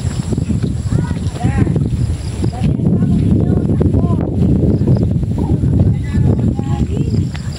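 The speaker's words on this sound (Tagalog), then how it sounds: "Ay, sarap na hangin." Strong seaside wind buffets the microphone in a steady low rumble while voices talk over it nearby.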